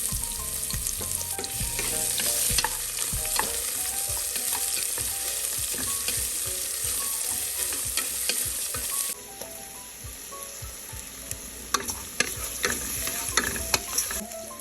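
Chopped onion frying in a pan for soya chunk vegetable rice, with a steady close sizzle and frequent scraping, clinking stirs throughout, briefly quieter near the end.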